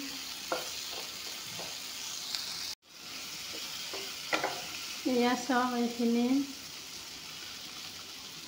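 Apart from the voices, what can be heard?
onion and green chillies frying on low flame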